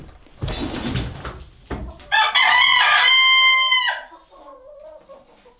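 In a chicken house warmed by a small diesel heater, a rooster crows loudly and close by, preceded by scuffling and clucking from chickens, then quieter clucks trail off.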